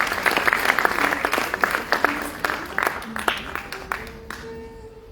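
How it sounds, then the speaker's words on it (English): An audience applauds at a Bharathanatyam arangetram, with a steady patter of clapping that thins and fades near the end while a voice speaks over it. "Please give her a huge round of applause."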